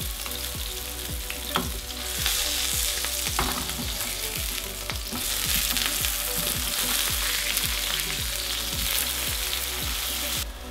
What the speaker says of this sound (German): Fleischersatzprodukt natürlich anbraten.